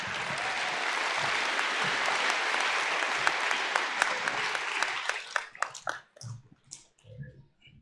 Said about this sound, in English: Another round of applause for Mrs.